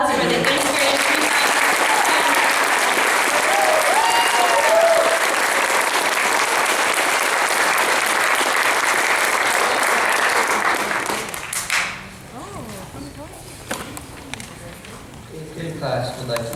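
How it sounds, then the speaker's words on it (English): Sustained applause from an audience at an 8th grade graduation ceremony, dense and loud for about eleven seconds before dying away, followed by quieter room sounds and a voice speaking. "One more round of applause for the 8th grade"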